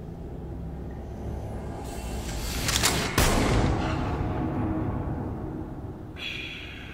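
Gunshot in the TV show The Midnight Club, a sharp loud crack rising out of a tense rumbling score, followed by a lingering low reverberant wash that fades off.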